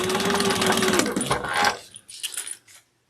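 A sewing machine stitching a fabric sling, running loudly with a steady whir for about a second and a half, then stopping, followed by a few softer clicks and fabric handling nearby.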